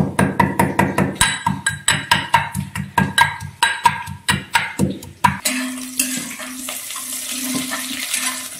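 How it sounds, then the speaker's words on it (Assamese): Ginger and garlic crushed in a kitchen, a run of about twenty sharp, rhythmic pounding thuds for five seconds, then a shift to running water and clattering from a sink, loud and close, no talk. "আদা নহৰুখিনি অকণমান থেতেলিয়াই লওঁ"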